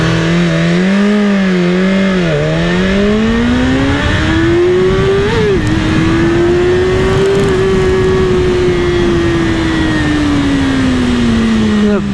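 BMW S1000RR sport motorcycle launching and accelerating hard, a loud, close engine whine that climbs through rising revs with a gear change, then holds a high, steady roar.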